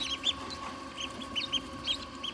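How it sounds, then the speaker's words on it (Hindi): Ducks at a zoo, kept in a temperature-controlled enclosure, give a series of soft, high, chirpy calls in uneven bursts, fairly faint over a low background hum. "ये आ गई बत्तखें"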